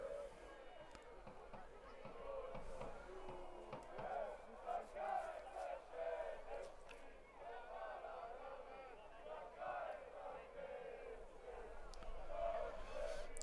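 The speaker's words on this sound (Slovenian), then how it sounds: "Po svoje se zdaj zabavajo navijači na tribunah športnega parka Ugasle peči." Football fans in the stands of the Ugasle peči sports park chant and cheer together in a rhythmic, sustained crowd roar, distant and fairly faint, swelling toward the end.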